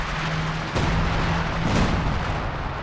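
Artillery and mortar fire in the video game Company of Heroes 2, with heavy booming blasts over a constant dense rumble of battle, loud and close with no talk.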